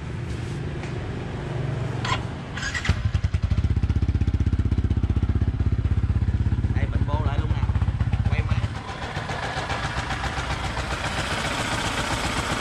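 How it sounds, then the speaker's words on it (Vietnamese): An Exciter motorcycle engine sputters, catches, and settles into a loud, rapid idle, then drops back to a softer running note near the end. "rồi nổ máy"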